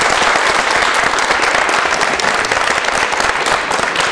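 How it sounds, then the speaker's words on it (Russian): A hall audience at a public event in Perm breaks into loud, sustained applause, dense continuous clapping from many people filling the room close and evenly from start to finish. "Я думаю, что аплодисменты вполне уместны."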